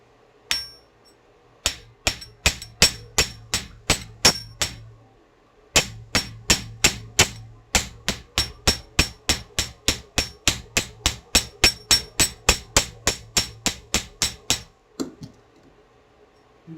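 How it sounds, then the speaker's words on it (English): Sharp metallic hammer taps on wire for a tree-of-life pendant, flaring and tapering it, in a fast, even series, close by, pausing briefly once before the steady rhythm resumes and ends with a final knock. "I'm going to hammer here to flare it out, and then just tap and taper."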